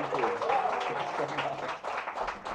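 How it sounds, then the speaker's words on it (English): An audience claps and cheers to welcome actor R Madhavan at a magazine cover launch event, a brief burst of applause mixed with voices. "please help me welcome with a huge round of applause"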